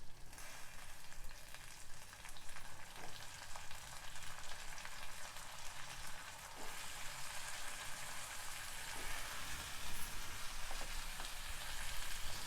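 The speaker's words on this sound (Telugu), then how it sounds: "ఇలాంటి 2 కందగడ్డలు నేను పొట్టు తీసి ముక్కలుగా చేసుకున్నవి ఇవి ఇందులో వేసుకోవాలి." Peeled sweet potato pieces sizzle and crackle in a frying pan, a steady hiss with occasional faint clicks of stirring, no talk.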